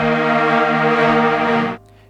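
Emergence granulator plugin effect on a breakcore production track: a loud, dense sustained tone with many stacked harmonics holding steady for under two seconds before cutting off abruptly, leaving a faint low tail.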